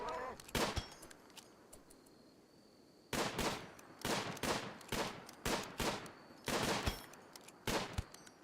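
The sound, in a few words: gunfire in the video game Rimworld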